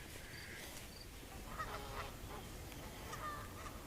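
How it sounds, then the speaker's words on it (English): Distant Canada geese honk a few times at a pond, faint and scattered over a soft outdoor background hiss. "We have a good crop of Canadian geese."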